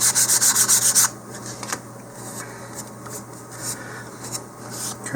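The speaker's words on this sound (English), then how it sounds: "I've been sanding with 150 grit sandpaper" Sandpaper of 150 grit rubbed on balsa for a model rocket, starting with a quick run of loud rhythmic strokes, then softer, slower scratching passes.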